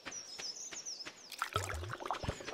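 Watering can pouring onto crops in a farming video game, a light trickling splash with soft chirpy game tones over a faint bed of background birdsong, short and close.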